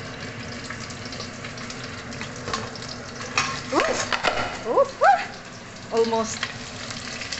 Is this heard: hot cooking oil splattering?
yes